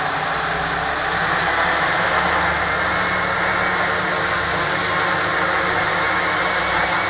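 A Walkera QR X350 Pro quadcopter drone flies in a small indoor room, its rotors giving a steady, loud, unbroken whirring drone that holds at an even level throughout, with no voices.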